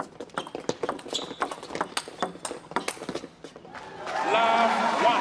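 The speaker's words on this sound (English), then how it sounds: "You could really hear the shuffling of the feet as this first point started" Quick, irregular squeaks and scuffs of table tennis players' sneakers shuffling on a hard floor during a doubles point, with sharp taps scattered through, then a louder wash of crowd noise near the end.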